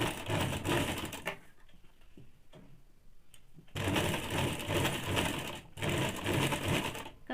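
A sewing machine stitches a woolen baby frock in two loud, steady runs, with a brief quieter pause between them and a short stop near the end.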